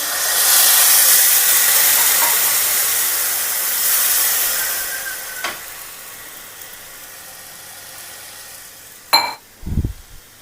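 Water poured into a hot tempering of mustard seeds, curry leaves and green chili for nylon khaman bursts into a loud hissing sizzle of steam that slowly fades, followed by a few sharp utensil knocks.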